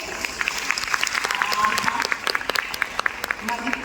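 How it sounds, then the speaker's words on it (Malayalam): Steady applause from an audience, dense clapping throughout with a few louder sharp claps standing out. "ഇഷ്ടപ്പെടുന്നവരൊക്കെ നന്നായി കൈയടിച്ച്"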